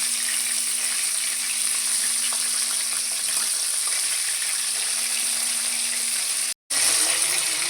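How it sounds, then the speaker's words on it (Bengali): Fish frying in hot mustard oil gives a steady, even hiss and sizzle with a faint hum underneath, broken by a brief cut near the end. "সর্ষে তেল গরম করে নিয়েছি এবার মাছগুলোকে ভেজে নেবো"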